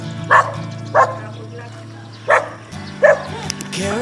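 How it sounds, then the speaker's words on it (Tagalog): Several dogs barking in short separate bursts, a few loud close barks spaced apart over a low hum, with people talking nearby. "Matapang yung mga aso nyo eh."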